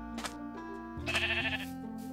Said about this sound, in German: Oh, hier haben wir auch das einzige Schaf.